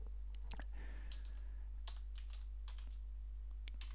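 Typing on a computer keyboard in scattered bursts of sharp clicks and key taps, fairly close, over a steady low electrical hum.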